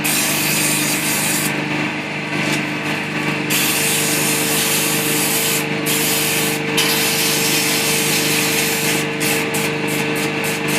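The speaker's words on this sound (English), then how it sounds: "Sanding the top rim of his hat there" Steady, continuous abrasive rubbing of sandpaper against a wooden snowman ornament spinning on a lathe, a constant hiss-like whir that carries on without pause and dips briefly now and then.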